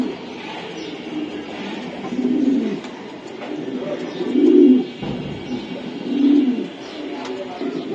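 Racing pigeons at a breeding farm coo in low, throaty bursts, three or four swelling calls close by, against a soft background hum.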